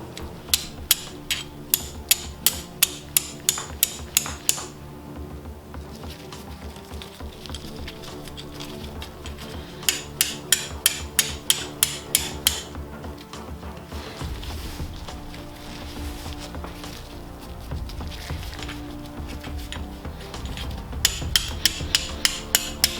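Tool work on a dried piece of tinder fungus (Fomes fomentarius), with bursts of rapid sharp tapping and clicking, close and crisp, in several runs separated by quieter stretches of low rustling handling.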